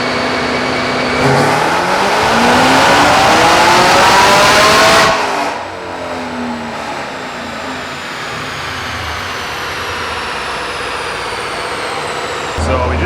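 A Chevrolet Camaro's engine roars loud and close on a dyno, climbing steadily in pitch for about five seconds before cutting to a lower, rumbling idle that carries on to the end.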